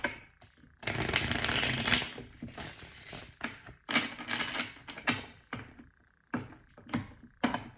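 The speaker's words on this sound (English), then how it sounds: "We'll get a few tarot cards here." Tarot cards are shuffled close by in a series of quick riffling, papery bursts separated by short pauses, with no talking.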